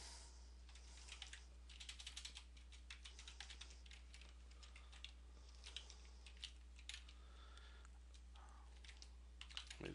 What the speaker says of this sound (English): let me just type it out first